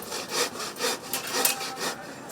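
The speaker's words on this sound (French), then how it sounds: "le bruit assourdissant des scies à bois et des marteaux dérange même les simples passants" A wood saw works steadily in a carpentry workshop, its rasping strokes rising and falling in an even back-and-forth rhythm, close and fairly loud, with no voices.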